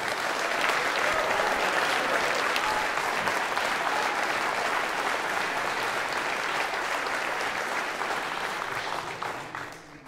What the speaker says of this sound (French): Je vous demande d'applaudir Christophe Scaff.